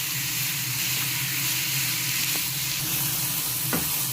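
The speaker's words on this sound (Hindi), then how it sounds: "चलो हमारी प्याज जो है अच्छे से हम लोग रोस्ट कर रहे हैं, तेल में अच्छे से बना रहे हैं" Sliced onions and curry leaves fry in hot oil, giving a steady, close, dense sizzle with a few soft scrapes of a spoon stirring the pan.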